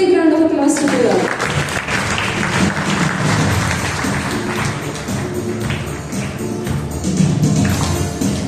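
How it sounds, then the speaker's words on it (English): Congregation applause at a church gathering, a dense wash of clapping that swells and carries on steadily for several seconds, with voices and some singing mixed in underneath. "Let's give a big round of applause to the Lord."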